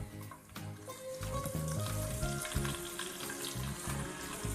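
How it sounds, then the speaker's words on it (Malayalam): Garlic and ginger frying in hot oil for a fish pickle, a steady close sizzle with bubbling crackle and occasional stirring, no voices. "ഇതിലേക്ക് ഇനി നമുക്ക് വെളുത്തുള്ളിയുടെ അങ്ങോട്ട് ഇട്ട് കൊടുക്കാം"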